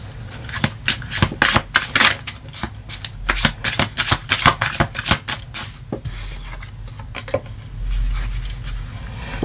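A deck of tarot cards is shuffled close up in quick repeated riffles and slaps, followed by softer sliding and flicking as cards are drawn and laid down.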